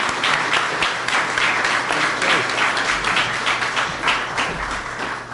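Dense, loud applause from an audience at a state Capitol award ceremony for student contest winners, a continuous wash of many hands clapping throughout.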